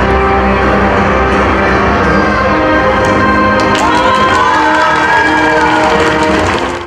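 Spectators applaud at a children's circus festival, the clapping swelling with cheers and crowd noise over loud music.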